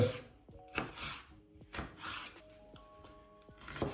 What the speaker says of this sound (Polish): Paprykę również w kostkę. Dość drobną kostkę.